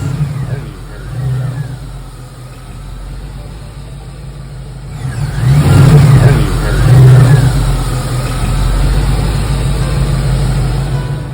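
A 1967 Pontiac Firebird 400 convertible with an automatic transmission idles with a low, steady rumble. Its V8 then revs up loudly about halfway through and stays at a strong, throaty drone close by.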